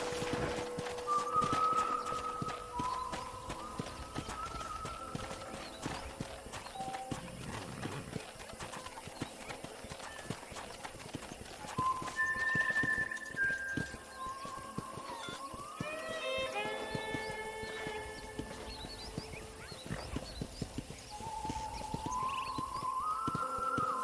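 A horse in Red Dead Redemption trots and gallops with rhythmic clip-clop hoofbeats, moderately loud under game music and ambience, with birds chirping faintly.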